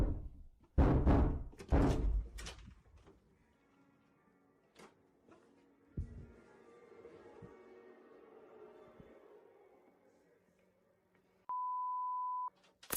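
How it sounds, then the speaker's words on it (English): Several loud, sharp knocks thud against doors in a quiet home, spaced out in short bursts, followed by a low rumbling hush and a steady electronic beep near the end. "The knocks weren't coming from just one door."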